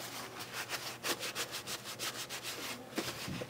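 A paper towel rubbed back and forth over a Smith & Wesson M&P pistol, giving a steady series of soft, close scrubbing strokes in a quick even rhythm with no voices.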